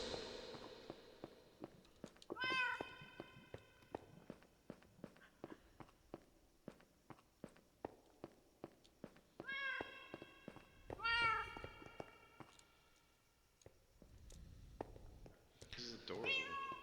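A cat in a video game meows in a few short, bright bursts over steady pattering footsteps, with some quieter background game sounds between the calls.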